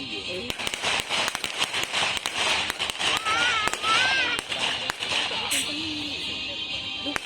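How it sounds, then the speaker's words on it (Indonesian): Mortar fire and explosions during a military demonstration at an Indonesian army graduation ceremony, heard as a rapid series of sharp cracks and bangs, close and loud, with voices in the background. "Dengan hancurnya sasaran oleh bantuan tembakan mortir dan drone bomber"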